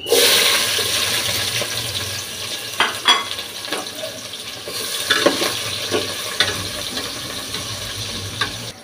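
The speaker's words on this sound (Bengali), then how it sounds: "এখানে 2টা বড় পেঁয়াজ কুচি দিয়ে দিলাম" Two large chopped onions frying in white soybean oil, a steady broadband hiss of sizzling that runs throughout, with occasional louder crackles and spatula scrapes along the way.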